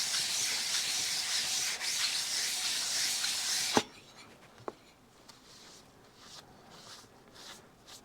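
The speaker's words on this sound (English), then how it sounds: "If it needs a lot, I'll have to put a new piece of sandpaper on." A Yamaha CT-3 engine top-end part is rubbed with sandpaper in a steady, close scratchy hiss that stops abruptly partway through. A couple of sharp taps and quieter intermittent rubbing follow.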